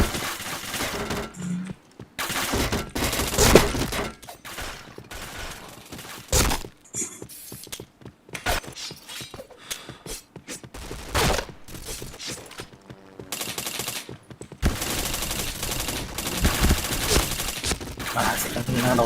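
Rapid bursts of assault rifle fire in a multiplayer shooter game, loud and close, coming in several clustered volleys separated by brief pauses, with cracking impacts and no talk over it.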